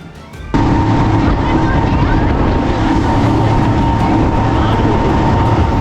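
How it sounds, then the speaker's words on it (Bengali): Storm wind at sea aboard a boat near Langkawi, Malaysia: after a brief quieter moment, a loud, constant roar swells in and buffets on without letup. "তবে বেশ কিছুটা পথ এগোতেই কালো মেঘ ধেয়ে এলো সামনে, সঙ্গে বাড়ল ঝড়ের গতিবেগও।"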